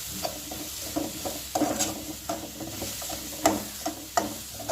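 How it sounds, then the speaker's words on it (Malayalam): Grated coconut roasting in a pan until brown, stirred so a spoon scrapes and taps rhythmically over a continuous dry sizzle, close and fairly loud. "ഒരു ബ്രൗൺ നിറമാകുന്നിടം വരെ നമ്മൾ തേങ്ങ നല്ലതുപോലെ വറുത്തെടുക്കുക."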